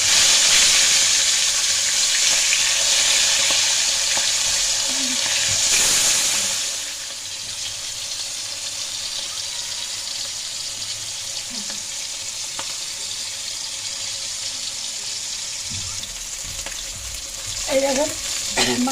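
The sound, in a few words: pangash fish frying in hot oil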